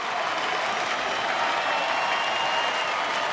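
Steady applause and crowd roar from nearly 24,000 fans at a baseball stadium, a broad even wash of clapping and cheering that holds without a break and with no voices standing out.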